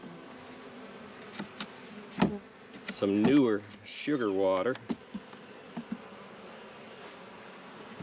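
Honey bees drone steadily during a hive inspection, a continuous close buzz running through the whole stretch while a person talks over it in short bursts.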